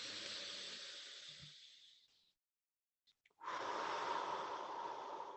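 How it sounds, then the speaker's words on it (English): Deep, full breaths in a breathing exercise: a long loud airy exhale fading out, a short pause with faint sniffs, then a strong sustained inhale close to the mic, with no speech. "So just inhale as much as you can, sip in more air, and then just push it all out"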